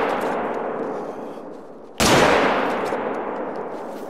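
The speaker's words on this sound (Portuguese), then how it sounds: "vou atirar naqueles lá" A single loud rifle shot from a hunting game, theHunter: Call of the Wild, cracks out mid-clip and rolls away in a long echoing tail over quiet outdoor ambience.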